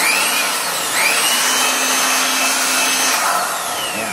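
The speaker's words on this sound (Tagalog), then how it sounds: "pwede natin siya hanginan ng blower. Ayan, malakas yung hangin" A loud, steady rush of forced air from a blower cleaning the air gap of a disassembled speaker runs continuously, with a faint whining tone and shifting hiss.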